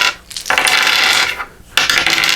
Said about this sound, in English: you're going to roll your dice